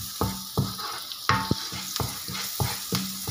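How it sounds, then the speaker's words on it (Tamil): Vegetables sautéing in a pan for a homemade vegetable pizza, salted, give a steady close sizzle broken by regular scraping stirs of a spoon against the pan, roughly every half second. "இப்போ பார்த்தீங்கன்னா நல்லா வதங்குது"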